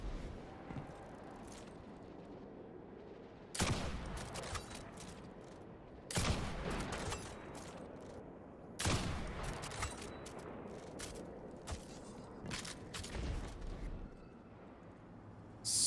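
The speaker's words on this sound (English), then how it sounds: "Here come me and my gun." Rifle shots in World of Warcraft, a few sharp, loud cracks spaced several seconds apart over a quiet ambient background.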